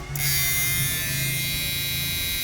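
An electric blower fan runs steadily with a constant whirring hum and high tonal whine, close and even throughout, beside a 4,000-watt amplifier under repair; no speech.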